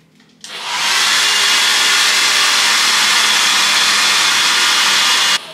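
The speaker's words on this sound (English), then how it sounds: "Oh, it is a blow dryer." A blow dryer in a rented apartment in Venice, Italy, switches on and runs loud and steady with a constant airy whoosh for several seconds, then cuts off abruptly.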